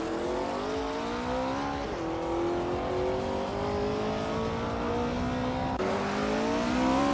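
Lola T70 Ford race car in a racing game, engine screaming at high revs through repeated upshifts, each gear climbing in pitch before the next shift, loud and continuous.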